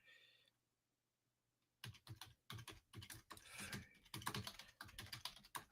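Rapid typing on a computer keyboard, a close, dense run of irregular key clacks that starts after a brief quiet pause and continues to the end.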